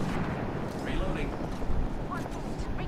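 An airstrike pounds the ground in Apex Legends as a dense, continuous rumble of overlapping explosions. Someone talks over it throughout.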